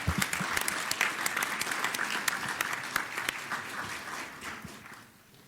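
Audience at a Philadelphia evening gathering applauding the Strawberry Mansion Choir after their performance, a full, steady roomful of clapping that gradually thins and fades toward the end.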